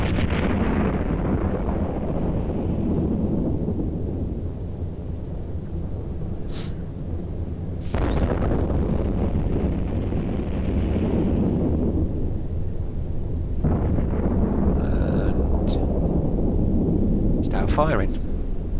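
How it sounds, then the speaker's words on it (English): EVE Online spaceship afterburner kicking in, a sustained deep roaring rumble with broad whooshing surges that swell and restart several times, steady and loud throughout. "we'll switch on our afterburner"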